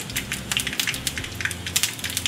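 Mustard seeds splutter and pop in two tablespoons of hot cooking oil, a dense, steady run of sharp little crackles close to the pan with no voices.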